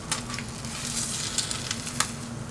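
Eggs fry on a pan over an electric stove, giving a soft, steady sizzle with faint crackles and small pops, fairly quiet and with no talking.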